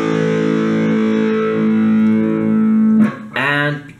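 Electric guitar riff played slowly through heavy distortion from a guitar lesson, with sustained saturated notes that break into a short choppy change near the end, loud and alone.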